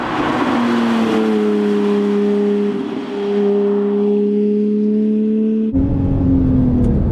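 A Porsche 911 997.1 GT3 with its 3.6 liter Mezger flat-six pulls hard on a race track, a loud steady engine drone climbing in pitch, dipping briefly around a shift, then cutting sharply and resuming near the end.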